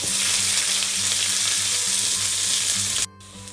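Onions, green chillies and curry leaves sizzle loudly in a hot pan of oil for a Sri Lankan brinjal curry, a dense, continuous crackle with a faint low hum beneath it that cuts off abruptly near the end.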